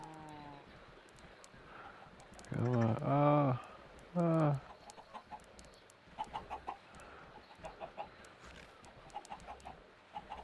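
Chickens in Minecraft cluck in a few loud, close bursts early on, then give way to quieter, scattered clucks and clicks over low game ambience, with a voice talking faintly in places.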